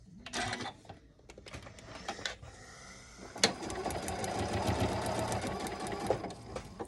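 A sewing machine stitches a quilt block seam in short bursts at first, then runs in a steady, fast mechanical whirr close by, with small clicks between runs and no talking.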